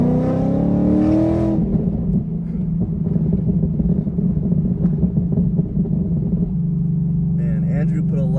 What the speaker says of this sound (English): Man, Andrew put a lot of burble on this tune.